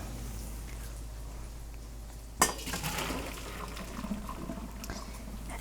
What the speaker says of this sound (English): Once your pasta's done, we're going to drain it.